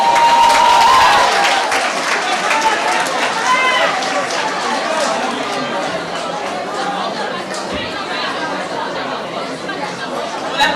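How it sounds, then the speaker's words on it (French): A crowd applauds steadily at a beauty pageant, the clapping dense and sustained throughout, with chatter mixed in and a voice audible at the start. "On applaudit bien fort s'il vous plaît"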